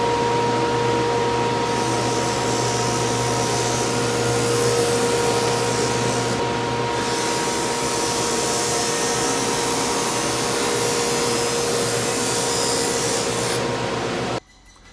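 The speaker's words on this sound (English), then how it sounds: "sand the edges of all of my face frame materials" Face frame wood pieces being sanded, a steady loud whirring of a power sander with a continuous abrasive hiss, briefly changing in tone a few times before stopping abruptly near the end.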